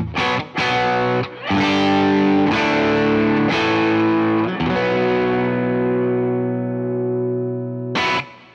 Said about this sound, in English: Next, we've got the London amp, which is your Marshall Bluesbreaker.